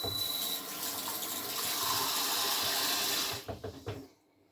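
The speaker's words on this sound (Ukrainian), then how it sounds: "я намочу руки, беру водички" Tap water runs steadily into a sink while hands are wetted during meatball preparation, then breaks into a few splashy drips before stopping, fairly quiet and close.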